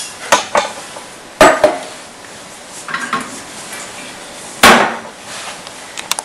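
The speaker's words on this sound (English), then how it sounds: "we're going to put that in the saucepan" Vegetables drop into a saucepan, making a few loud clattering hits and rattles of metal, with quieter shuffling between them and no talk.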